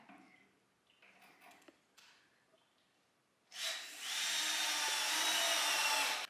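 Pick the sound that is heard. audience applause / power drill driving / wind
power drill driving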